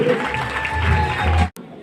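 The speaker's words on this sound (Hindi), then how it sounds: "हमारे diamond leader mister Krishna Gaur के लिए जानदार तालियां" A seated audience at an Indian stage event in Ghazipur claps steadily and densely to welcome a leader onstage, a loud, even wash of applause that cuts off abruptly near the end, leaving a quieter room tone.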